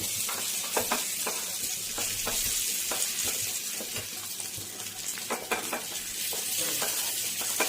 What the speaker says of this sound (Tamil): லைட்டாக ஆயில் ஃப்ரை பண்ணணும், அதாவது டீப் ஃப்ரை